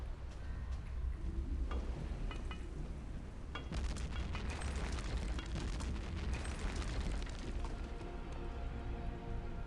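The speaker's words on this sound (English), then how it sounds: "which is straight up while she's throwing grenades" Grenade explosions in Return to Castle Wolfenstein, continuous heavy rumbling booms and crackling blasts over a dense battle din, fairly close and without speech.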